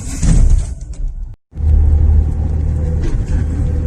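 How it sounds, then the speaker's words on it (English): Cars pass at the Mexico border crossing into Nuevo Laredo, their deep road rumble and tire whoosh rising loud and close, cut by a brief silent gap, then a steady low engine drone continues. "Those cars are going to Mexico."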